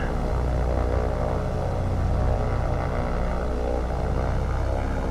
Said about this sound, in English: Float planes.